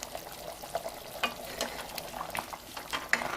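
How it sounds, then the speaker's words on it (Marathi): King fish curry in a thick orange gravy simmers in a pan over a medium-low flame, giving a faint, steady bubbling with scattered soft pops and crackles throughout. "चांगली भाजी उकळती आहे।"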